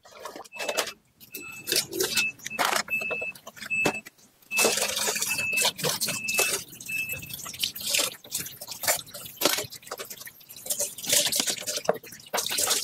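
Dishes being washed under running water in a home kitchen: a steady wash of tap flow with frequent clinks, scrapes and splashes of plates, close and fairly loud, with a short break partway through.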